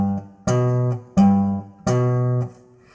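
A finger-style acoustic guitar phrase with the thumb alternating bass notes, four distinct plucked attacks ringing out clearly and close, with no voices.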